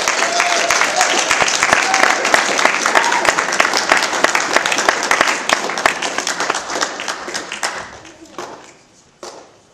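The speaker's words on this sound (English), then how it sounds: "let's give Mom and Dad a big round of applause." A dense round of clapping from an audience at a Boy Scout Eagle court of honor, honoring Mom and Dad, steady and full before thinning out into a few scattered claps at the end.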